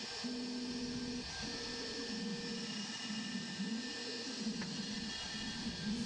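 End mill on a stock X-Carve V2 CNC router cutting brass, sped up, giving a continuous high whine and grinding drone with steady pitch and rhythmic wavering throughout.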